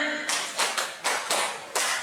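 A group claps in unison during a classroom clapping game, a sharp rhythmic run of about five quick claps in a row.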